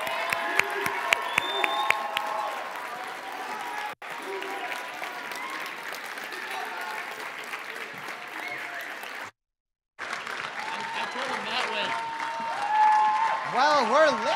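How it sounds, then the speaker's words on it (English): Crowd clapping and cheering for a team coming up at a high school event, applause running on under voices, with a short drop-out and whoops building near the end. "Keep clapping."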